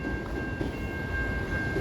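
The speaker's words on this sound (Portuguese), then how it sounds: "Olha quem tá passando ali. Quem? O trem." A train passes at a distance, heard as a steady low rumble with a faint sustained tonal whine over the whole stretch and no clear horn.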